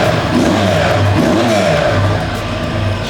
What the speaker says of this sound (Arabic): ونبدا بقى التحيه بالضجه اللي الناس بتحب تسمعها من الاتنين سلندر الموتوسيكل 400 سي سي